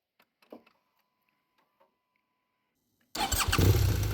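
A BMW adventure motorcycle engine catches after a few faint clicks of near silence, bursting into a loud, close, steady idle rumble for the final second.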